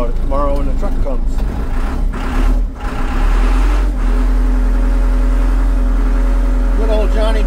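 A John Deere Fabtek forwarder's diesel engine runs at a loud, steady close idle, a deep continuous rumble with some clattering and a voice speaking over it.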